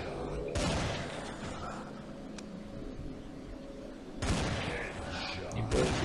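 Pistol gunfire in the zombie shooter game Dead Target, with two loud, dense bursts of shots at the start and near the end, separated by a quieter stretch of game ambience and a voice talking over it.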